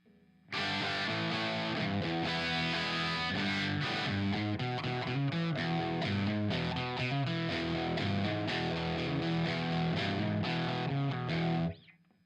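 A distorted electric guitar plays a steady rock rhythm through an amplifier running at 2.7 watts, low volume, continuous chords for about eleven seconds before stopping.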